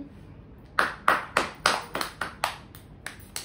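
A little girl claps her hands at a family anniversary celebration, about ten distinct sharp claps in a loose, uneven rhythm, close and clear with quiet room tone between them.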